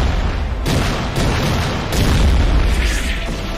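Cannon fire from the Attack on Titan anime: a loud, sustained booming blast that rolls on through the clip with a few fresh surges, heavy and close, with no talk over it.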